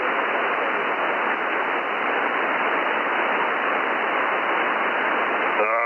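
Amateur radio reception with two stations transmitting at once, heard as a dense, steady hiss of static and garbled signal filling the whole stretch, ending with a short warbling tone.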